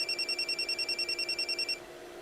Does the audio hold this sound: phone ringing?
yes